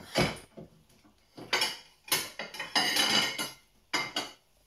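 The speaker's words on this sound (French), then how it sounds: "Je vais sortir une assiette." A plate is lifted out and dishes clatter in several sharp, clinking bursts, close by and fairly loud, with short pauses between the clatters.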